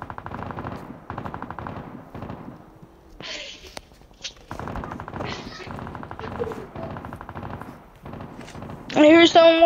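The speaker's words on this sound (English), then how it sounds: "I hear someone shooting." Rapid bursts of automatic gunfire in a video game, heard in several clusters across the clip, with voices talking over parts of it and sharp in-game effects near the end.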